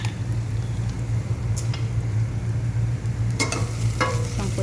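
Ground meat sautéing in a pan on a home stove, with a steady sizzling hiss, a low continuous hum beneath it, and a few scraping stirs near the end.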